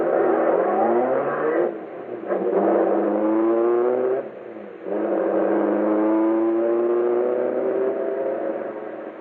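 Old radio drama sound effect of a getaway car pulling away, engine revving and accelerating through gear changes with brief dips, steady and moderately loud, no talk over it.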